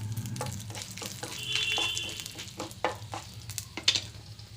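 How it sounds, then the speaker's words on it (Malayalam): Two dried red chillies crackle and sizzle in hot oil during tempering for garlic chutney, with soft broadband frying hiss and a few sharp pops and stirring clicks, fairly quiet and steady throughout. "ഇനി നമുക്ക് 2 ഉണക്കമുളക് ഇട്ട് കൊടുക്കാം."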